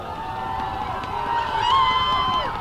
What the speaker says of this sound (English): Hilltopper fans cheering their boys on D. Monroe fans cheering their boys on O.